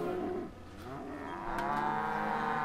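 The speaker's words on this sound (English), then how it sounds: "You're a cow." A cow in the Call of Juarez Gunslinger western game lets out a long, loud moo that swells and holds near the end, alone without talk.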